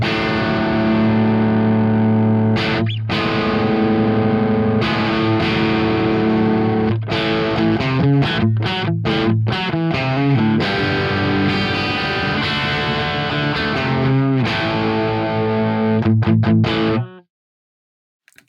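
Electric guitar played through an amp modeler's normal channel in Genome 1.8, dry and unreverbed, strummed chords and choppy rhythmic stabs ringing loud and up front before stopping abruptly at the end.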